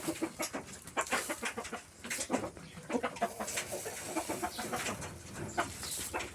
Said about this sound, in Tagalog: Dami yung manok dito.